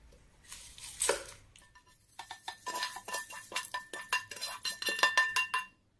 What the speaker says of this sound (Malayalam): മിക്സിയുടെ ഒരു ചെറിയ ജാർ എടുത്തിട്ടുണ്ട്. നമുക്ക് അതിലേക്ക് മുഴുവനായിട്ട് ഇത് ഇട്ട് കൊടുക്കാം.